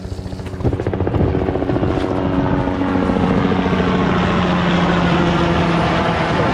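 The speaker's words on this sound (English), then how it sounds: "Helicopter flying right up the river at us." A sheriff's helicopter flying up the Lower Salmon River approaches, its rotor thumps growing louder, settling into a loud, steady, rapid chopping drone.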